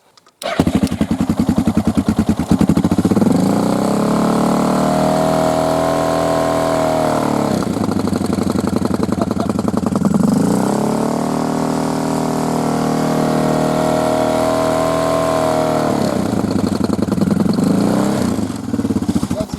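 Motorcycle engine running rough with its airbox blocked by loose tape, starting then holding a loud, steady close-up drone that swells and sags in slow surges as revs rise and fall, with no speech.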